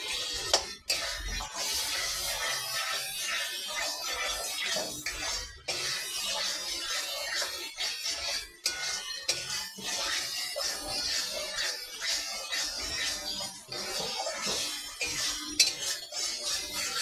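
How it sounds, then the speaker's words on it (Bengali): Spice masala for a chicken and taro curry is stirred and fried in a pan, giving a continuous close sizzle with steady scraping and occasional clinks of the spoon throughout. "মশলাটা ভালো করে কষিয়ে নিতে হবে।"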